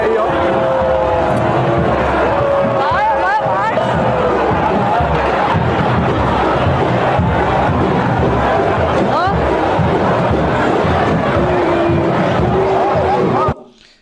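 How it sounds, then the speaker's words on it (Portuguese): A large outdoor crowd at a political walk with the governor of Bahia raises a loud, continuous roar of booing and shouting that stays dense and steady until it cuts off abruptly near the end. "Aqui é o governador da Bahia sendo vaiado."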